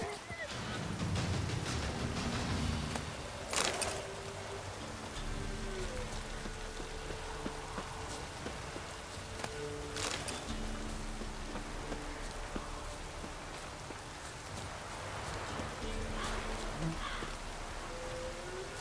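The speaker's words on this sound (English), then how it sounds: "So with this rain and it's getting towards night" Rain falls in The Witcher 3: Wild Hunt on PC, a soft constant patter under game ambience and music, with someone talking over it at times.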